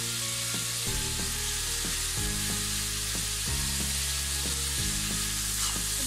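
Ground coriander, turmeric and chili powder sizzle loudly and steadily in hot oil for a chapila fish curry with sweet potato. Regular scraping strokes from stirring repeat roughly every second over the continuous frying hiss.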